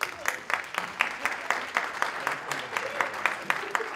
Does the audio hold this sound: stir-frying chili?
no